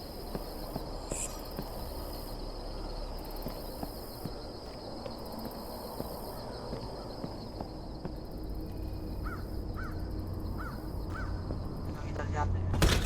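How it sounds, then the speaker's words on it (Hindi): Crow cawing in a horror video game, a series of short harsh caws over a steady bed of crickets and ambient drone, with someone talking throughout. "सीधा कौवा हमारे मुंह के सामने से भागता हुआ।"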